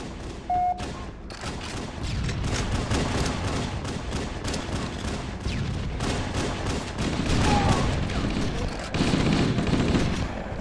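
Sustained gunfire from the blue team in Halo CE, a dense stream of overlapping shots that runs steadily through the whole stretch, loud and close, with brief louder bursts near the end.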